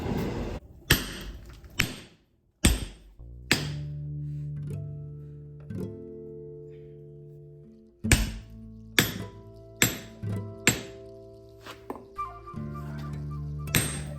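Hot katana steel is cut halfway with a hot cut chisel, producing sharp ringing hammer blows in uneven clusters, some left to ring out with long metallic tones between strikes, heard close without talk.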